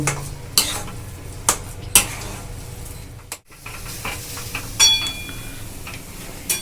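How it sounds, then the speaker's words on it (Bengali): A capsicum chop filling is mixed by hand, giving close squelching and stirring sounds. Sharp taps and clinks at irregular intervals punctuate the mixing, with a brief silent gap midway, and nobody speaks. "ভালো করে আমি মেশাবো"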